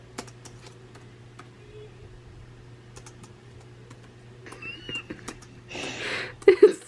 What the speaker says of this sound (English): record me typing to you guys, answering comments, because this is how I type.